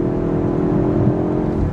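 A BMW engine revving with a tuning box activated, a loud, close, steady engine drone held at high revs for under two seconds.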